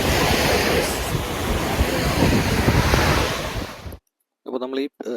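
Wind-driven surf on the shore of Pelee Island, Canada, roars loud and steady, with heavy wind buffeting the microphone. It cuts off abruptly near the end, followed by a brief voice.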